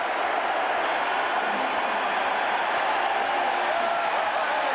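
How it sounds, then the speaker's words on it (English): A packed college football stadium crowd roars at Syracuse during a 1991 game against Florida, a continuous, dense wall of noise with no breaks, loud and enveloping from start to finish. "Listen to this crowd. Just deafening right now."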